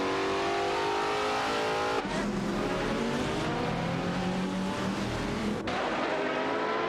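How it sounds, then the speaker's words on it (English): Race cars including an Alzen Porsche 996 Biturbo and a Chrysler Viper GTSR roar through a racing video game, loud engines revving continuously with abrupt shifts in pitch as cars accelerate and pass. "Okyoki 3 and Bomber 77 are behind the wheel of a Chrysler Viper GTSR"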